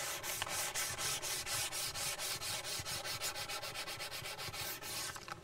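A sanding block is pushed by hand across a bare metal hot rod panel in steady, even back-and-forth strokes, each a close, gritty rasp that quickens slightly toward the end.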